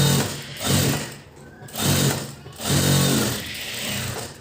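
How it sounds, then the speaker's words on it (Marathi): A sewing machine runs stitching a blouse seam in short bursts, three loud whirring runs separated by brief pauses, close and steady with no talk over it. "आपण याच्यावर अजून एक शिलाई मारणार आहोत"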